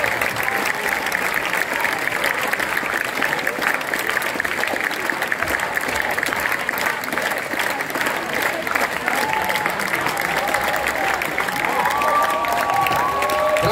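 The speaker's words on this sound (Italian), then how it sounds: "Fate un altro applauso a loro, perché vi giuro che hanno fatto un lavoro immenso." Sustained applause from a concert audience for an orchestra at an open-air Ferragosto concert in Fenestrelle, steady and dense throughout with a few scattered voices and faint shouts in the crowd.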